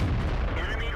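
Tank cannon firing from an M6 heavy tank in World of Tanks, a single loud, close, booming blast with a rumbling decay lasting about a second, with a voice over it.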